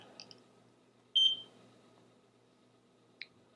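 A Uniden LRD950 radar detector sounds a few electronic alert beeps in a quiet car: a short double chirp, then one longer, louder tone, then a single brief chirp.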